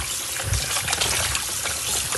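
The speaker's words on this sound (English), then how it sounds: "And wash it thoroughly until there's no blood in the water." Running water gushes and splashes steadily nearby as raw oxtail is washed thoroughly by hand, a continuous trickling, sloshing flow with small irregular splashes throughout.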